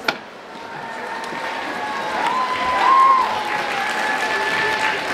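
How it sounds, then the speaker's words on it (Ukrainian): An audience at a gymnastics competition applauds, a steady wash of clapping that swells gently in the middle, with a faint tone underneath and one sharp knock at the very start. "Підтримайте оплесками."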